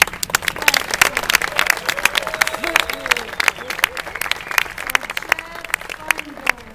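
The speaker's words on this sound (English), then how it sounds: "Let's give a big clap" Rehearsal dinner guests break into dense, lively applause, many hands clapping close by for several seconds, with voices and cheers mixed into the clapping.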